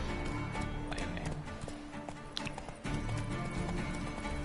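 Roach, the horse in The Witcher 3 video game, gallops with rapid, steady hoofbeats that sit close and fairly loud, with a brief break near the end before the clatter resumes.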